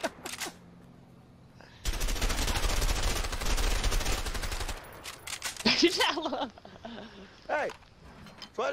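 An M16 rifle firing in the game A Way Out, a sustained loud automatic burst lasting about three seconds, followed by scattered sounds and brief talk.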